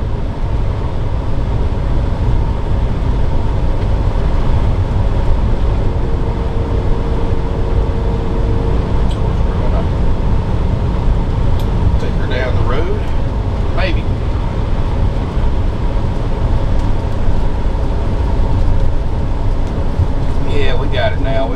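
Steady loud engine and road drone of a 2008 Monaco Monarch 33SFS gas Class A motorhome cruising on the highway at 60 mph, a constant rumble with wind noise throughout.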